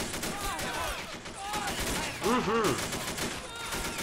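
Infantry open fire in the World War II strategy game Men of War: Assault Squad 2, with dense overlapping rifle and machine-gun fire rattling continuously under game music and brief voice murmurs.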